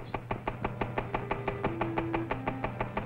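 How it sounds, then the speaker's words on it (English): Rapid, regular knocking from an engine running on low-octane gasoline, a steady metallic rap of about five beats per second over a low running hum, close and prominent. "With a fuel of low octane number, here's how it sounds."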